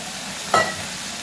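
Water poured into sizzling spice masala for a Bengali puthi fish curry: one brief loud hiss-and-splash burst near the middle, then a low steady background simmer, no voices.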